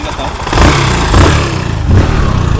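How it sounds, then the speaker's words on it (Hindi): A freshly repaired Bajaj motorcycle engine runs close by with a steady, loud mechanical drone, rising in a few brief revs along the way. "देखिए इंजन का साउंड"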